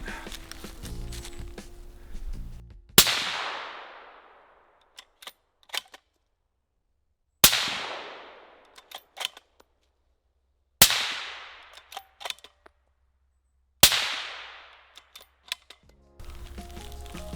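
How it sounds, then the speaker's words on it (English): Four suppressed shots from a .308 (7.62x51 NATO) rifle fitted with a Direwolf suppressor, each a sharp crack with a decaying tail, evenly spaced, plus faint handling clicks in between. "that is the quietest 308 can that I've actually shot"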